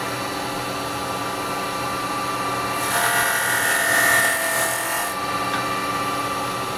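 Carbide chisel cutting a small resin bowl spinning on a wood lathe: a continuous whirring hum with a brighter, hissing cut rising for a couple of seconds mid-clip, close and steady.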